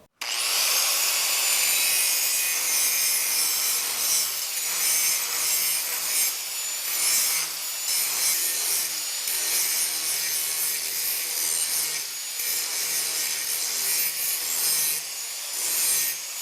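An angle grinder works the angled end of 11 gauge, 2-inch square steel tubing, a continuous loud, hissing scrape of the abrasive wheel biting into the metal, with slight surges in pressure and no speech.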